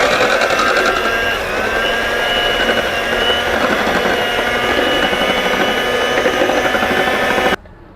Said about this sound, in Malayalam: ഈ വിപ്പിംഗ് ക്രീം ഞാനൊന്ന് ബീറ്റ് ചെയ്തെടുക്കട്ടെ.